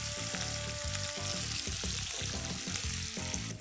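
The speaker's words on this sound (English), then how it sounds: "We need to fry these and ensure that the color of this does not change" Broken cashew nuts fry in oil in a pan while a restaurant-style gravy base is prepared, giving a steady, close sizzle broken by rhythmic stirring and scraping throughout.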